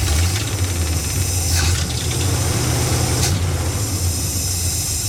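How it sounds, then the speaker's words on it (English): A 1977 Dodge motor home engine idling steadily with a low droning hum, a fuel pump still whirring, and brief hissy bursts over the constant running. "I cannot believe it's actually idling that good."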